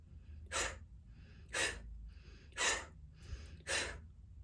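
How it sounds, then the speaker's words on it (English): Five forceful bellows breaths in a guided breathing exercise, evenly spaced about one second apart, each a sharp close rush of air with quiet pauses between. "So we'll do 5 bellows breaths."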